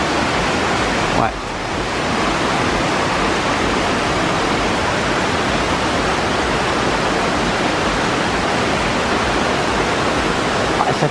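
Water streaming hard down the slopes of the Puy de Sancy after heavy rain, a loud, steady, broadband rush that fills the whole clip with no clear voices above it.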